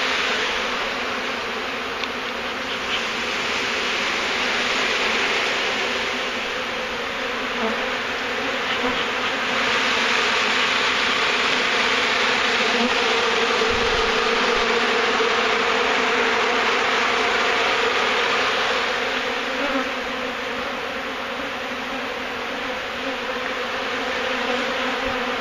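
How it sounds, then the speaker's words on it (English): A swarm of honey bees around a hive during a removal makes a dense, continuous, loud drone that stays even throughout, with no talking. "This is a lot of bees."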